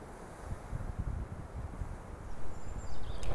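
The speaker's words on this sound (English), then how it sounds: "It is quite chilly today and windy." Gusty Mediterranean wind buffets the microphone with low rumbling thumps, rising and falling and growing stronger toward the end.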